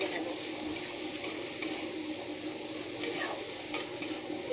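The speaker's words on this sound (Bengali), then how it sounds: "এমনি একটুখানি পেঁয়াজের সাথে ভেজে নেব" Shrimp frying with onion and garlic in a pan, without salt or turmeric, gives a steady close sizzle with a few light scrapes of stirring running throughout.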